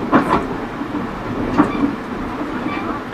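Rail Runner commuter train riding on the rails, a steady rolling rumble with a few light wheel clacks and faint background voices.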